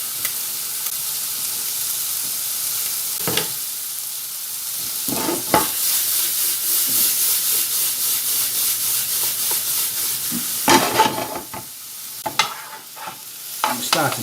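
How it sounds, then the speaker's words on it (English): Quartered cherry tomatoes frying in a pan, a steady close sizzle and hiss running throughout, broken by several bursts of stirring and scraping against the pan, with no talking. "And as that's cooking, I'm just going to drop in some quartered cherry tomatoes."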